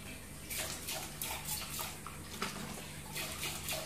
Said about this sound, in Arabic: المنظف بتاعي وسيبته يملى ميه خلاص